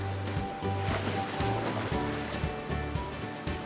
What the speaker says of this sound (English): there's a stream down there